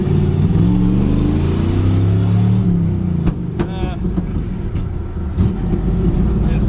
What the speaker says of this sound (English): If you're in first gear and you nail it